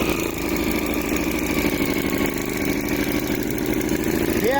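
A snow blower engine runs at high throttle with a steady, fast, buzzing drone, loud and close throughout, with no talking.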